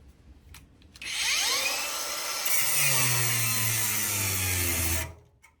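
A Dnipro-M cordless angle grinder spins up and cuts, a loud steady whine over about four seconds with a lower tone that drops as the motor loads, then cuts out abruptly.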